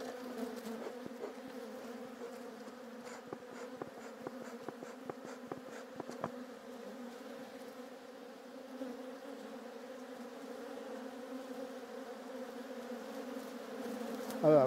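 Honeybees hum steadily at an open, strong, lively Varroa-resistant hive, a dense continuous buzz with scattered close passes of individual bees, moderately quiet throughout.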